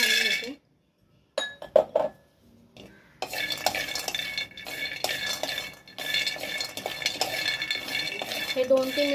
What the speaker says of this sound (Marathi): शेंगदाणे घालून घेते।